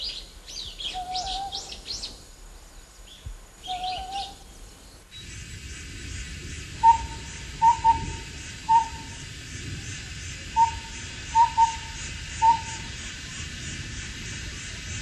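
A short series of soft, evenly spaced owl calls, repeated in two groups, rising from a quiet outdoor background with faint birdsong early on.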